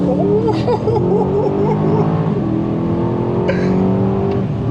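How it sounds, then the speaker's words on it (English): Engine of an Aston Martin DBX SUV pulling hard under acceleration, a loud, continuous, tuneful growl heard from inside with rising pitch and a couple of brief sharper bursts. No one speaks. "That sounds like classic Aston, and you get a good, nice like tone to it"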